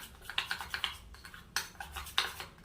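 Gram flour, turmeric, curd and lemon juice being stirred into a face pack in a small bowl: quiet, irregular clinks and scrapes of a spoon against the dish in short bursts, close and soft, with no voices.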